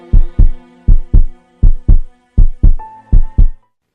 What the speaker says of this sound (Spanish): Es el latido de su espantoso corazón.